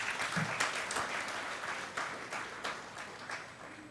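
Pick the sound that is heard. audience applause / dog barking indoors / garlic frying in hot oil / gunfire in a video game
audience applause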